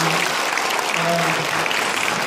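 Applause from a church congregation for performing children at a sixth-anniversary church show, a steady wash of clapping filling the whole short stretch with a murmur of voices underneath.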